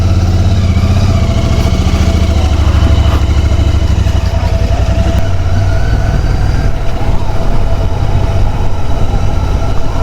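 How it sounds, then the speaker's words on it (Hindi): A Royal Enfield Interceptor 650 motorcycle rolls downhill on engine braking, giving a continuous close, loud, pulsing engine rumble mixed with wind noise throughout, with no talking. "अरे अरे अरे, बहुत तेज जा रही है बाइक।"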